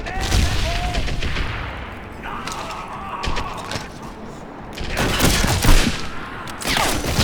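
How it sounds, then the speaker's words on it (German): Gunfire in Medal of Honor Airborne, a World War II shooter, with bursts and rattling volleys rising and falling over several seconds, loud and close, partly under talk. "Erstaunlicherweise schießen die gerade auf mich."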